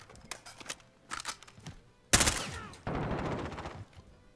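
Gunfire in Call of Duty Modern Warfare mosh pit multiplayer: scattered sharp shots early, then a loud sustained burst of automatic fire with a second rattling volley right after, close and dominant.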